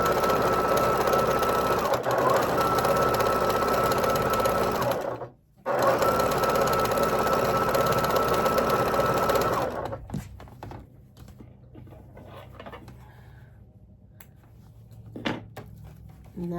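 Sewing machine stitching quilt blocks onto sashing strips, a steady loud whir for about ten seconds with one brief pause, then stopping into quiet handling noises.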